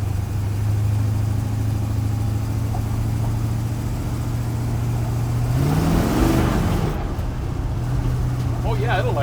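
Engine of a 1953 GMC truck on its first drive, a steady low idle drone that swells into a short rev midway before settling back, heard close with a little talk.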